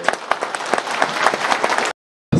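Crowd applause at a political rally in Erzincan, Turkey, a dense burst of clapping with sharp individual claps poking through, ending abruptly into silence before a brief return at the very end.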